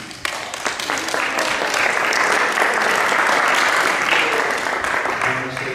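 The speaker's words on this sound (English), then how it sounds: "So everyone, please give a little applause for our new initiates." Temple audience at an ISKCON initiation ceremony in New York claps loudly for the new initiates, a full dense burst of applause that swells quickly and stays strong before easing slightly at the end.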